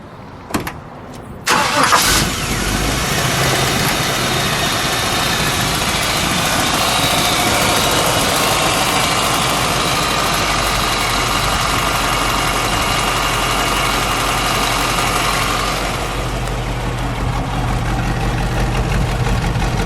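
A 1969 Toyota Land Cruiser FJ40 restomod with a Chevy 350 engine starts in a driveway: a few clicks and a short crank, then it catches into a loud, steady rumbling idle that eases off slightly near the end.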